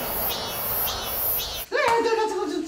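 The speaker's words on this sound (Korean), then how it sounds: "이렇게 갑돌씨 성화에 매미 한 마리가 목숨을 건졌습니다." A cicada gives off a steady, close, shrill buzz for over a second, then the insect noise drops away as a voice begins speaking.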